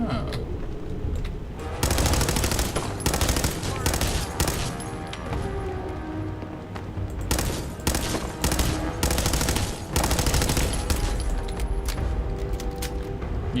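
Rapid automatic gunfire in the video game Fallout 4 rattles in long, loud bursts separated by brief pauses, with booming impacts and an echoing room tail throughout.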